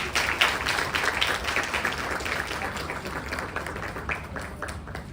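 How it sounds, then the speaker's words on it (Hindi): An audience at a ceremony applauds to honour a woman, dense steady clapping that rolls on for several seconds and slowly thins out. "आप सभी लोग तालियों के साथ मैडम का सम्मान करें।"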